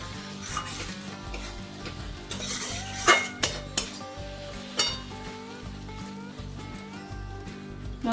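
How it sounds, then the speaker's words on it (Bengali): Spices for chicken curry fry in oil and are stirred, a continuous close sizzle with repeated metallic scrapes and clinks of a spoon against the pan, and no talking. "মশলাগুলো ভালোভাবে কষে নিচ্ছি।"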